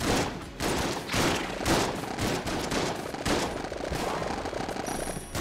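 Gunfire in Enter the Gungeon from a weak gun, loud rapid bursts of shots repeating in close waves, with almost no talking.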